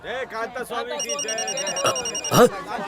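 A telephone rings in a Hindi film scene, with repeated electronic tones sounding behind and between speaking voices.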